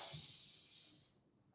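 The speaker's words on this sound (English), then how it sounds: "That's the Ujjayi breath in yoga, and it's just that kind of oceanic Darth Vader sound." Steady, breathy Ujjayi yoga exhale through a constricted throat, a soft oceanic hiss that holds for about a second before fading, close and alone during a flow class.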